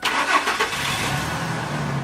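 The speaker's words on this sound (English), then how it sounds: "what we're going to do is to first start our engine" A car engine cranks and catches, then settles into a steady low idle hum, close and fairly loud.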